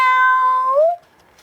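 A person's voice imitates a cat's meow in one drawn-out, clear cry lasting about a second, its pitch bending down near the end before cutting off.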